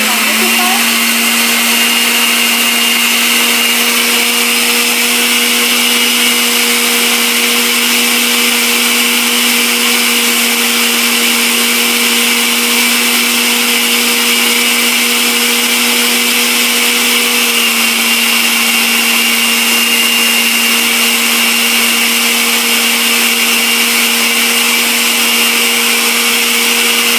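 A blender runs steadily for the whole stretch, liquefying homemade BML sugar glider food in a loud, constant motor whir with a fixed hum and no pauses.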